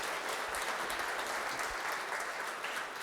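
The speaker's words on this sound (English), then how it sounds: "Big round of applause, please." An audience claps continuously after a conference talk, a dense, even wash of applause from a room full of people, fairly distant and steady throughout.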